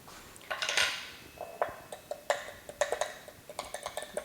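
A spoon clinks and scrapes against a bowl while mayonnaise and Tapatio hot sauce are stirred together, making a run of close, irregular taps and scrapes with no talk.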